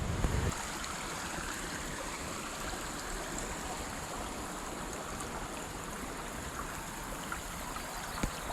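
A creek near a woodland lake flows steadily in wet, misty conditions after early rain, giving a constant, fairly faint rushing and babbling wash with no voices.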